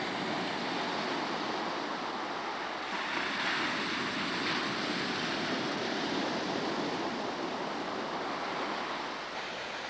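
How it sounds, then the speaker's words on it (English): Ocean surf surging into Thunder Hole on the rocky Maine coast as the tide rises: a constant, broad roaring wash of waves with slight swells in intensity, no voices, steady and enveloping throughout. "The tide seems to be a little more active now. The difference in the waves and the heights of the water is definitely noticeable now."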